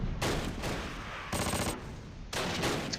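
An MG42 machine gun in the wartime strategy game Close Combat fires in sustained bursts separated by short pauses, each burst a dense, loud rattle with background battle noise underneath.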